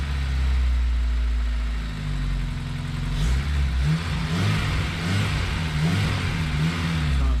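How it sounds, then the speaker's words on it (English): A Honda S2000 fitted with a JS Racing exhaust runs loudly and steadily up close, with a deep, throaty drone and light throttle blips that make the pitch rise and fall slightly. "JS Racing exhaust sounds really nice"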